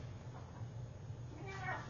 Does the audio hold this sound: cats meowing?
yes